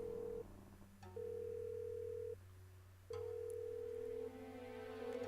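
Telephone line ringing in the video game Dracula 3: Path of the Dragon, steady electronic tones that repeat in long bursts with short gaps, quiet and clean with no voices.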